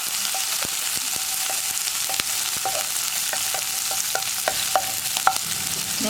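Green chilies, onion and curry leaves fry in a pan, giving a steady sizzle broken by repeated sharp clicks and scrapes of stirring, close and clear, with no voices.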